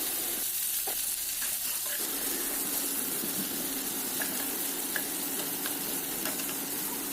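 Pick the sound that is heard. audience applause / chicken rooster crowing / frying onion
frying onion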